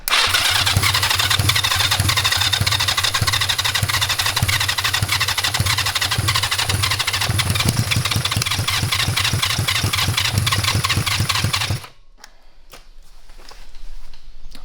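A small lawn mower engine fitted with a street bike engine sputters and coughs rapidly for a long stretch, a ragged putt-putt rhythm that cuts out abruptly, leaving quiet with faint rustles.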